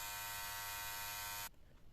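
A Philips MG7707/15 body groomer trimmer fitted with its precision trimming blade runs with a steady, close electric whine for about a second and a half, then switches off abruptly, leaving only faint room noise.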